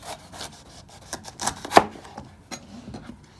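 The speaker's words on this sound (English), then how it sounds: "So now we're gonna prepare this pepper and cut it into little chunks." A knife chops and scrapes against a cutting board as the ends are cut off a pepper, with irregular close taps and one sharper cut standing out.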